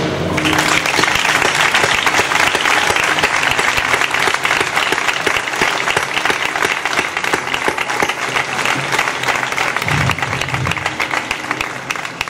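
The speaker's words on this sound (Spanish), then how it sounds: "lo que quiero es que se le dé un aplauso muy fuerte a ellos," Loud, sustained applause from an audience at a homecoming reception in Medina Sidonia, a dense wash of clapping that fills the whole stretch without letting up, with faint crowd murmur underneath.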